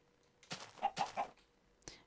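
Chicken clucks from the Minecraft video game, a short burst of three or four close, clear clucks followed by a faint later one, over near-silent background.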